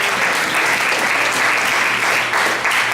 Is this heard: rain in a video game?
no